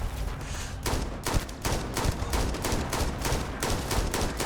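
Rapid gunfire in the Starfield video game: a steady, fast string of loud, sharp shots, one after another for several seconds, with no talking over it.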